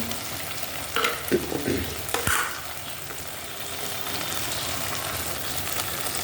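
Tomato paste with salt frying and being stirred in a pan, a steady close sizzle with a few scraping stirs near the start and no voices.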